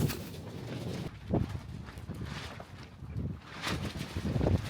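Strong wind gusts of about 40 mph buffet the microphone in heavy, roaring bursts near a flexing metal carport, with loud rumble rising and falling throughout and no voices.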